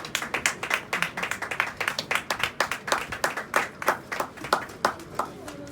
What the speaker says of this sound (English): please clap for ITC.